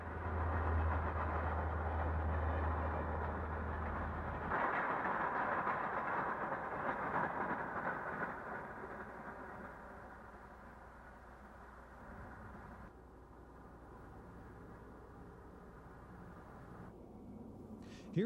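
Wabash Railway train SC-1 rumbling over a concrete bridge a mile out of Oakwood Yard, a steady distant roar that slowly fades and thins out, with no talk.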